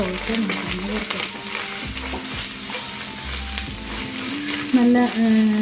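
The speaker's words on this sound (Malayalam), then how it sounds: "നല്ല ചുമന്ന് വരുമ്പോൾ അതുവരെ നമുക്ക് വറുത്തെടുക്കണം" Dried red chillies and curry leaves fry in oil, stirred until reddish for a Kerala kootu curry and moru kachiyathu, giving a steady close sizzle with scraping stirs and faint tonal hums, no talk.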